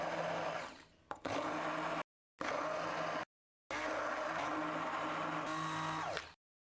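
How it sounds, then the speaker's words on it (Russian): Close, loud electric blender whirring as it mixes ricotta with melted chocolate into a smooth cream, running in three bursts separated by short silent pauses, with no voices over it. "Можно также перемешать с помощью блендера."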